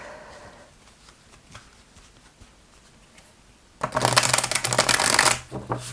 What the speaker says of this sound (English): let me see if we can riffle shuffle it